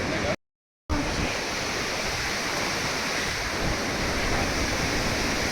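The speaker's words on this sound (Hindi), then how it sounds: "नदी का कलकल शोर" A river rushes and babbles beside a bridge on the Yamunotri trek, a steady, close wash of flowing water that fills the scene without pause and with no one talking.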